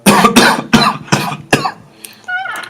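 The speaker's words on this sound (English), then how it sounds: "Sorry, I'm having a bit of a cough" Several harsh, forceful coughs from a man, close and loud in a tight burst, followed by a brief throat-clearing sound and a faint high tone at the end.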